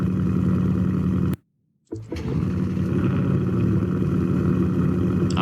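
A 2024 Ford Mustang engine droning steadily, then dropping into brief silence before cranking back to life with a sharp start-up burst and settling into a loud, even idle.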